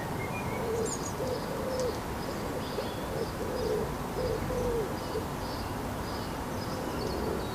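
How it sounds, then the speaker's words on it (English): A wood pigeon coos faintly in the distance, soft repeated low phrases over steady outdoor background noise, with higher bird calls scattered above. "We can hear a wood pigeon is still around somewhere"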